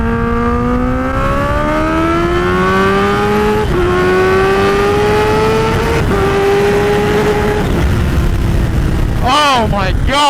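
A Kawasaki Ninja H2 motorcycle accelerating at full throttle, its engine note climbing steeply through several rising gear pulls with brief dips at each shift. Loud and close, with a final sharp rev burst at the end.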